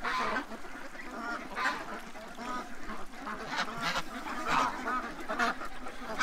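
Ducks quack repeatedly in bursts, moderately close, overlapping one another with a steady outdoor background and no talking.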